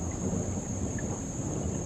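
Thunder rumbles low and steadily through falling rain, a dense wash of noise with a faint high steady tone above it and no voices.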